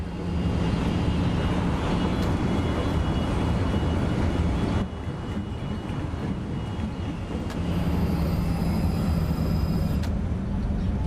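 Tram running in the City Transport Simulator video game: a steady, loud rolling rumble with continuous mechanical hum and occasional squeals, constant throughout with a brief dip midway.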